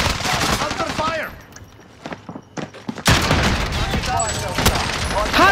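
Rapid bursts of automatic gunfire from Call of Duty Warzone, loud and close, with a quieter gap of scattered shots before the heavy firing resumes.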